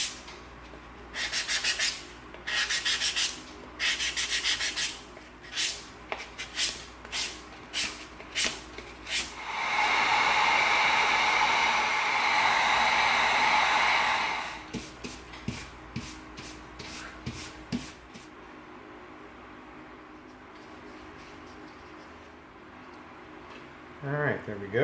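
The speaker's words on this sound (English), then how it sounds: "we're going to come in with our 220 sanding stick." EVA foam for a bison axe prop is worked over with a 220-grit sanding stick, rapid close rubbing strokes in bursts and then a long continuous stretch of sanding, with a voice talking in between.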